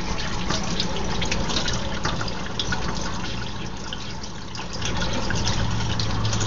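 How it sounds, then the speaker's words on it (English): Running tap water pours over a metal object being rinsed after electrolysis rust removal, a steady close splashing wash that dips briefly in the middle, with no talking. "you put it over under the water and you rinse her off again"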